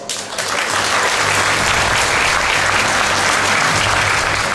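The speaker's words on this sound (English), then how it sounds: "give them a big round of applause" Sustained applause from a large audience at an ASUS ROG press event at Computex 2017, a dense, steady wash of clapping that stays loud and even throughout.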